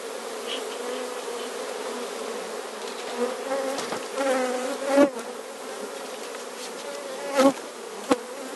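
Honey bees drone around an open, divisible hive during queen rearing, a dense, close buzz with single insects flying by now and then. Someone handles the frames, adding a few small knocks.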